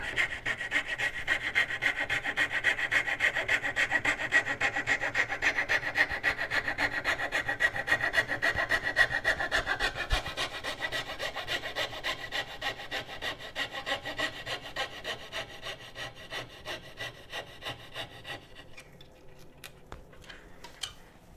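A steel chisel pares wood from a dovetail joint in steady, rasping strokes, close and fairly quiet, with a continuous scraping texture that eases off near the end.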